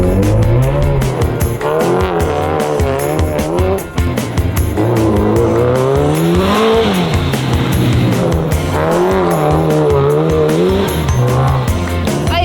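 A Kenworth truck brakes hard, its tires giving a loud, sustained, wavering squeal over engine noise for the whole stretch, close and continuous with no talking.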